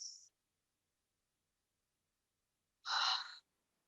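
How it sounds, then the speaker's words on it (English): Deep clearing breaths at the close of a yoga practice: a short airy breath at the start, a long pause of silence, then one fuller, breathy exhale, close and quiet with no talking. "We're going to end today's practice with our 3 clearing breaths."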